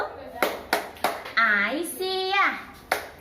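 Children doing the 'tepuk sekolahku' clapping routine with a teacher at a school orientation, sharp hand claps spaced through short chanted and sung phrases, voices joining in.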